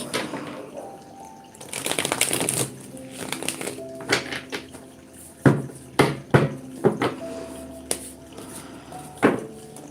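Tarot cards being handled and drawn from a deck during a live reading, heard as a run of shuffling rustles followed by separate crisp card snaps and taps, close and fairly quiet, with no talk over them.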